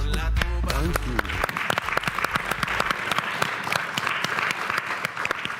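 Audience applause at a conference in the Leeds Conservatoire venue, a dense wash of many hands clapping with sharp individual claps standing out, preceded by a brief voice at the start.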